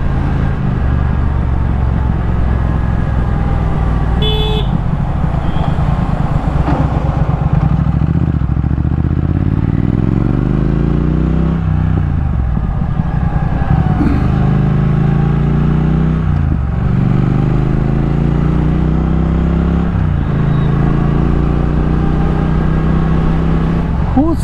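A Triumph Thruxton R motorcycle running at highway speed, its steady engine drone rising and falling through gear changes under constant loud wind rush, with no talking.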